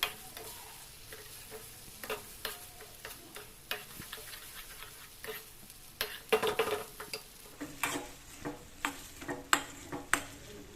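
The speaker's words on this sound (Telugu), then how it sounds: "స్టవ్ మీడియం ఫ్లేమ్లో పెట్టి మిక్స్ చేసుకోవాలి" Steady scraping and light tapping of a spoon stirring ridge gourd chutney in a pan on a medium flame, a faint sizzle underneath, with irregular clinks growing busier toward the end.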